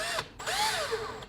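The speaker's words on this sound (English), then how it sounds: "slowly drill in" A power drill whines as it bores tuner holes through a guitar headstock, the pitch rising and falling with short pauses between bursts, close and fairly quiet.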